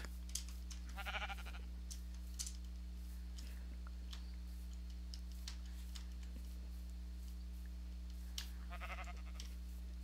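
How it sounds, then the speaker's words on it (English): Two faint sheep bleats in a Minecraft UHC game, one early and one near the end, over a steady electronic hum and scattered soft clicks. "Little sheep."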